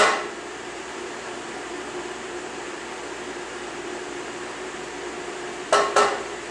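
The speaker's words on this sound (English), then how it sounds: "I'll go ahead and take the lid off at this point" The lid comes off a small homemade ice cream batch freezer with a tub-style pail: a steady mechanical hum runs throughout, then two quick close clunks near the end as the lid is lifted.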